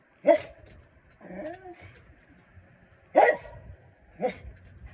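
Several sharp dog barks and a whining yip, four separate bursts spaced over a few seconds against a quiet background, fairly close and with no talking.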